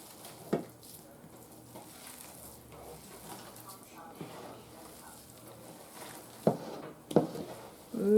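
Canned chicken pizza crust mixture squished and kneaded by hand, making soft wet squelching and patting close by, with a few sharper slaps, while a person talks quietly over it.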